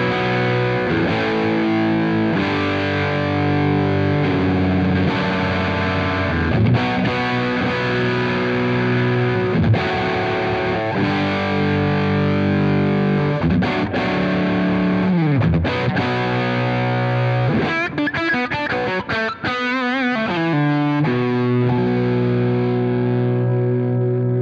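An electric guitar plays through an overdriven Budda V20 SuperDrive two-channel tube amp, a steady stream of thick, distorted chords and single-note lines with bends and slides, loud and unbroken, with no talking.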